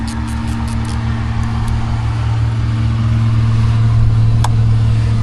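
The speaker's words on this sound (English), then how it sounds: "Sorry for the background noise. I live right off of a highway," Steady highway traffic roars close by, a constant loud rumble and engine drone with no breaks, passing vehicles blending into one continuous wash of road noise.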